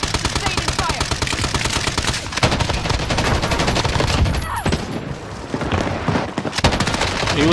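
Sustained automatic gunfire in a game, a dense run of rapid shots filling the whole stretch with only brief dips, loud and close, with voices faintly mixed in.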